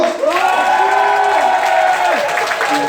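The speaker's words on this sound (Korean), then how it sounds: "박수!" Audience applause fills a church neighbourhood-invitation party after a ventriloquism act, a steady clapping crowd lasting the whole moment with some voices and tonal sounds mixed in.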